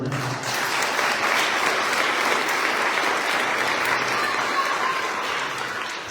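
A church congregation applauding during a sermon, a loud, steady wash of clapping filling the space for several seconds.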